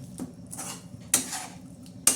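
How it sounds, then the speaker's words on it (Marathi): Spoon or ladle knocking against a pot while chicken curry with masala and onions is stirred, giving four sharp scraping clinks at irregular intervals over quiet background, no voices. "आता आपण हलवून घेतोय चांगलं"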